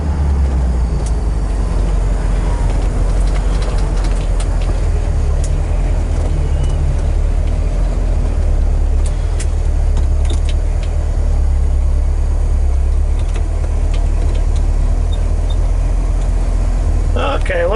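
A 1967 Chevrolet El Camino Custom rolls along and turns during a test drive. A constant low engine drone and road rumble stay loud and close throughout.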